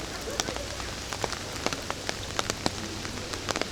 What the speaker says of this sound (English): Lying in bed with the soothing sounds of the rain.